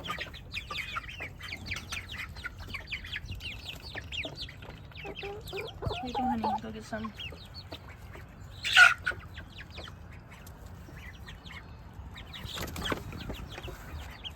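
Chickens clucking around a farmyard, soft repeated clucks and chatter from several birds at close range with a brief flap of wings, while someone speaks quietly to them.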